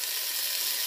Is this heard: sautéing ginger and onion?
yes